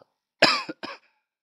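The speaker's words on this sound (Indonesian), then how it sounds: "Sekarang gue batuk" A person coughs twice in quick succession, a harsh burst followed by a shorter second cough, close and clear against silence.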